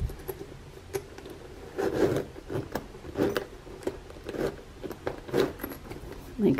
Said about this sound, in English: But it does go in, and it will zip closed.